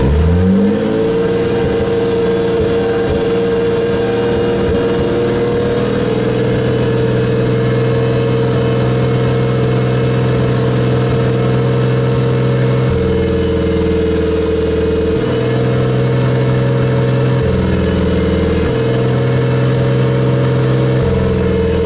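A Toyota Supra project car engine idles with the idle air control valve unplugged, a loud, steady close-up drone that holds for over twenty seconds with slight shifts in pitch partway through.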